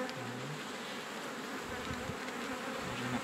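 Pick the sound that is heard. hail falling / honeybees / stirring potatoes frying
honeybees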